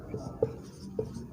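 A hand writes a sentence, probably on a board or paper, with soft scratchy strokes and a few sharper taps at irregular intervals, close and quiet beneath a low murmuring voice.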